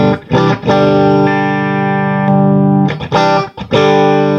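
An electric guitar plays sustained, dry chords through a 1968 Fender Deluxe Reverb tube amp with reverb disabled, with brief gaps and restrikes near the start and end.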